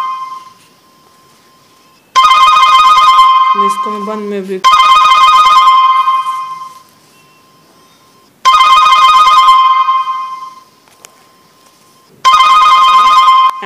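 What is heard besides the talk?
mobile phone ringing while being located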